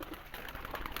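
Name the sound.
pigeons cooing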